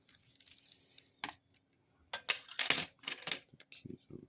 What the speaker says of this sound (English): Put the keys over there.